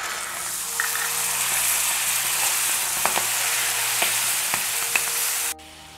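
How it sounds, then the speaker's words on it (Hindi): Taro stems and soaked chickpeas with salt and turmeric fry in a pan with a steady, close sizzle, broken by occasional scrapes of stirring before the sound cuts off near the end. "अच्छे से हिलाइए, अच्छे से फ्राई कीजिए।"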